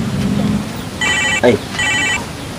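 Two bursts of an electronic telephone ring, a repeating high chirping tone, sound while someone speaks Sundanese nearby, with a brief voice between the rings.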